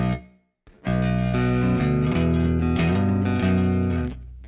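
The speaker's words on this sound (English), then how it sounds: "A little bit of room reverb." Electric guitar played through a Kemper Profiler amp profile with a touch of room reverb, a loud sustained chord rings out after a brief pause and decays slowly, with no talking.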